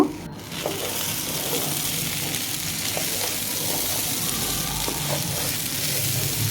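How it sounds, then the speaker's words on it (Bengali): Spices sizzle and fry with salt in a hot pan, a continuous close crackling hiss with faint stirring scrapes throughout. "লবণ দিয়েছি এখন ভালো করে কষাবো মশলার কাঁচা স্মেল চলে গেলে আমি চিকেন দিয়ে দিব"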